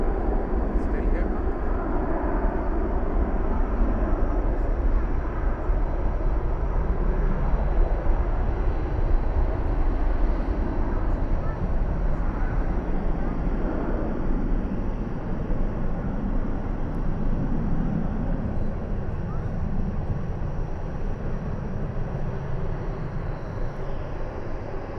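A Qantas airliner at DFW airport at night rumbles as a broad, steady roar with a low engine drone, moderately distant and continuous, while a person talks intermittently nearby.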